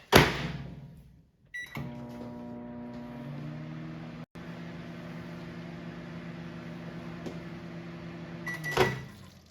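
A microwave oven runs a cook cycle on peanut butter fudge: a door clunk and start beep, then a steady humming drone with a brief break, ending in a short beep and handling noise, no talking.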